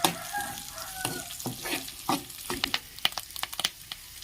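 Green chillies fry in hot oil for a drumstick-leaf dal, with a crackling sizzle, quick spatula stirs and a burst of sharp pops toward the end; no talking.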